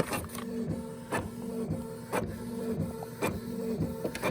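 An inkjet printer feeding a napkin clicks and whirs in a steady rhythmic cycle, with sharp regular clacks over a low motor hum, close by.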